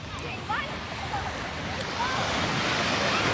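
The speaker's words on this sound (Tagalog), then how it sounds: "Ang sarap sa tenga ng sound ng dagat." Sea waves washing steadily onto the shore, a broad, continuous rushing surf with wind noise, swelling slightly louder toward the end, while voices talk faintly over it.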